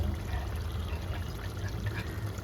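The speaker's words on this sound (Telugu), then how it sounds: "కొంచెం వాటర్ వేసుకొని" Water is poured into rice in a pot to wash it before cooking for biryani, giving a continuous close splashing trickle at an even level with no voices.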